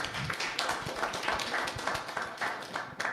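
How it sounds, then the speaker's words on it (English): An audience at an inter-house learning and sharing convening claps for a team, a dense, steady patter of many hands at moderate distance, fairly quiet and with little talking. "Can we give the team a very big round of applause?"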